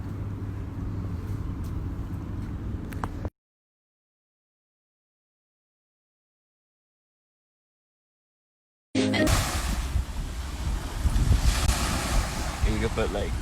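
Ocean surf at a Miami-Dade beach, a broad wind-blown roar of waves with heavy microphone wind buffeting, cut by a long stretch of total silence in the middle before the surf returns louder and closer.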